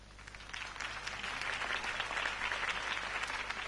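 A crowd applauds after a campaign speech for Harvey Dent, a dense, steady wash of clapping from many people at moderate distance that holds evenly throughout.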